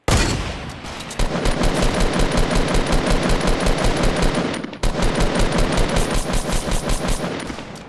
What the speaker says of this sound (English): I'm literally just shooting over and over.